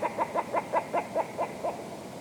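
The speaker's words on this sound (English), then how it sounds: "So you hear the wee go back, go back, go back, go back, go back sound." A red grouse on upland moorland calling a rhythmic go-back series, about nine evenly spaced clucking notes close by, clear and alone with no talk.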